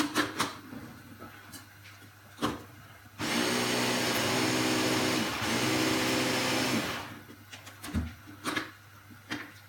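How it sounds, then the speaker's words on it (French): A blender whirs steadily for about four seconds, blending a rabbit stuffing. The loud, even motor drone starts and stops abruptly, with quiet kitchen handling sounds before and after. "Et on va mixer."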